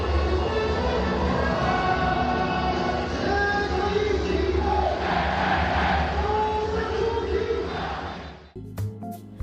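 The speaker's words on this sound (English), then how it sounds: "This is the cheering sound from the brothers' fans in 内野, the infield." Brothers baseball fans in the infield cheer and chant at a game, a dense, loud roar of many voices sustained for several seconds before briefly dropping away near the end.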